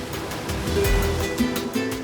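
Sea waves washing against a craggy rocky shore on the Spanish coast, a steady loud rushing surge with foamy swells, near and continuous.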